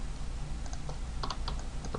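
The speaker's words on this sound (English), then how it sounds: "you can just press G on your keyboard" Soft clicks of keys pressed on a computer keyboard during 3D modeling work in Maya, a handful of quick taps scattered over quiet room noise, with no talking.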